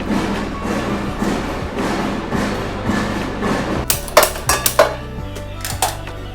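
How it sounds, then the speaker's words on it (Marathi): Outside building construction work carries into a home kitchen as a steady rumble, then a run of sharp metallic clangs and knocks in the second half, fairly loud and with no talk. "बिल्डिंगची कामं चालू आहेत म्हणून तर खूपच म्हणजे आता पण तुम्हाला येत असेल आवाज"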